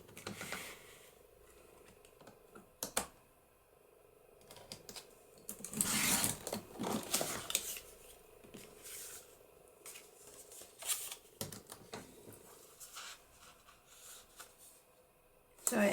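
Sturdy cardstock being trimmed for a multi-pocket paper embellishment, a series of close, crisp snips and paper rustles in irregular bursts with quieter gaps, faint and up close.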